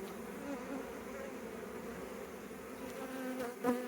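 Honey bees buzz steadily during a bee removal, a dense, droning swarm hum that swells briefly near the end as a bee passes close.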